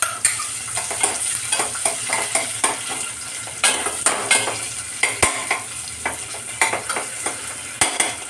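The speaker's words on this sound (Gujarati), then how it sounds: "હવે મેં અહીંયા આગળ બટેટા નાખીશ." Potatoes fry in hot oil with cumin, curry leaves and chillies for sabudana khichdi, giving a steady close sizzle while a spoon scrapes and knocks against the pan in repeated strokes.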